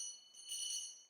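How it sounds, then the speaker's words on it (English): Debate timekeeper's bell, a faint, short bright ringing tone with a soft second strike following closely, heard alone in a quiet hall. "When your time is up, you will hear the bell ring twice."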